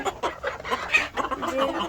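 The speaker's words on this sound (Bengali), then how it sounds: "খুব সুন্দর মুরগি" Chickens clucking close by, a busy overlapping chorus of short calls with some higher squawks over a steady farmyard background.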